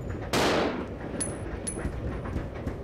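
A single loud gunshot from the video game Resident Evil 0 cracks out early, then a low rumbling game ambience continues with faint tonal sounds.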